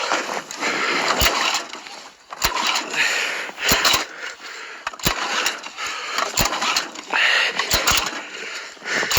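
A lawn tractor engine cranks repeatedly without catching, in several bursts of starter grinding separated by short pauses and sharp clicks, close by and fairly loud.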